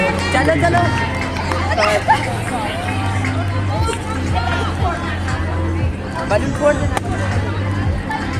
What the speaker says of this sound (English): The finishing line is getting closer and the audience is cheering louder.